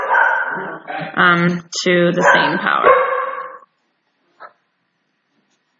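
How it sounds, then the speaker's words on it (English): A pet dog barks in a run of loud, close yips and barks right over a person's speech, with one brief faint yelp after a pause. "sorry, that's my dog"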